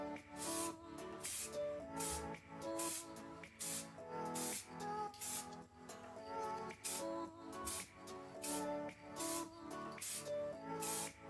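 Bursts of aerosol spray paint being dusted in light, even coats onto Ford Focus ST alloy wheels during a refurb, the short hissing blasts repeating steadily over loud background music.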